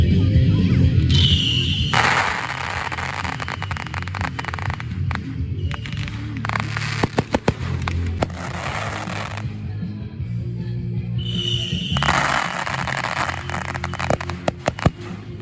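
A hundred Saturn missile batteries firing together in a video game, heard as bursts of whooshing launches and crackling, firework-like rumble over a throbbing hum, several dense waves of fire separated by brief lulls.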